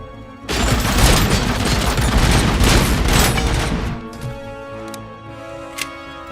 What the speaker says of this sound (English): I forgot about the machine gun again.